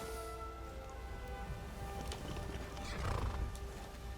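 In the video game Skyrim, a horse gives a neigh and its hooves thud quietly as the rider dismounts, all heard faintly against a soft, steady ambient background.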